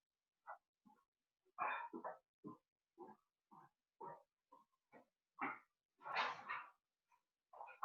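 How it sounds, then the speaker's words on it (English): A dog barks and whimpers indoors in a string of short, separate yelps and grunts, close by and fairly quiet, with one longer, louder bark near the end and no talking over it. "My dog is barking."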